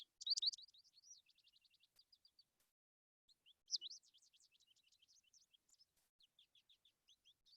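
Songbirds sing in quiet surroundings, with bright, rapid trilling phrases in two bursts separated by a short pause, fairly soft and clear.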